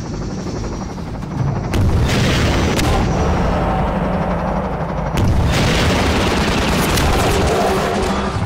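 Rocket launcher blasts in Half-Life 2 ring out amid heavy gunfire, with two booming explosions standing out over a constant loud roar of combat.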